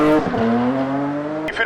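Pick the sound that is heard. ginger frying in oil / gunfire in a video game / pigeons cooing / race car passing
race car passing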